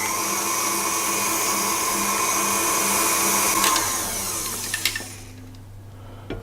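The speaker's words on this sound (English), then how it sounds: "So we'll just whisk this together" A whisk works through butter cookie dough in a bowl, giving a steady, continuous whirring scrape for about four seconds before it tapers off into quieter, scattered clinks.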